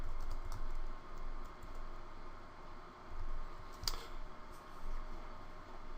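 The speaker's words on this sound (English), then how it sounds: "Just type in their name." Steady typing on a computer keyboard while entering a name into a Twitter search box, a continuous patter of soft, close key clicks with no talking.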